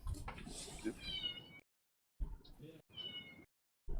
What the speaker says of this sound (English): The cat wants to play.